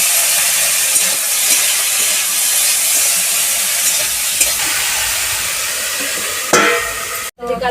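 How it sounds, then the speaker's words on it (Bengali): Green chillies fry in a pan in a village kitchen, giving a loud, steady sizzle with occasional stirring scrapes and a short sharp clatter near the end. "লঙ্কা দিয়ে দিয়েছি, লঙ্কাটা ভালো করে ভাজা হোক।"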